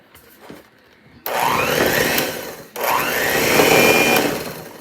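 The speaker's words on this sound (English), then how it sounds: "This is my ancient mixer." Old electric kitchen mixer whirring in two bursts, a loud steady motor whine that starts abruptly, briefly stops, then runs again close up.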